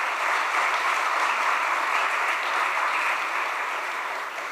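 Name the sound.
audience applause for dancers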